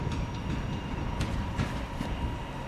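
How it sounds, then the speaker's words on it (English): A Northern passenger train pulls out of Manchester Piccadilly bound for Alderley Edge, its steady low rumble of wheels and traction noise filling the platform, with faint clicks and a brief high squeal, no talk. "going now is going to be a northern service to Alderley Edge"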